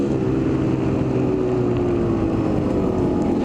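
A Kawasaki KDX250 trail bike engine warms up and idles with a steady, close, continuous mechanical drone and no noticeable revving.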